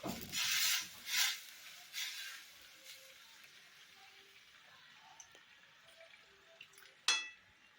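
Hot water pours into a pan of chicken curry in two short splashy gushes up close, then fades to a soft, faint simmer with occasional small pops and a clink.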